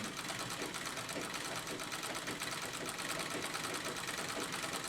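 A sewing machine stitches a stippled quilting design into white denim, its rapid needle chatter running loud and unbroken throughout.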